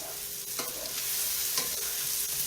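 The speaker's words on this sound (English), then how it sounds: "The shallots are getting pretty dark." Shallots frying in a stainless steel pan, with a continuous close sizzle and a few light stirring scrapes, no talking.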